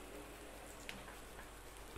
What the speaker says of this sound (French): alors il pleut, alors ça c'est pas cool